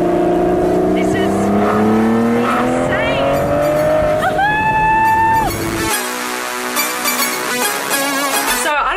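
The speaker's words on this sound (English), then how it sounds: "I cannot believe the sound of this car." A powerful Pagani supercar engine revs up in rising, whining pitch sweeps while driving, loud and close, then shifts and drops into a rumbling idle with burbling gear changes.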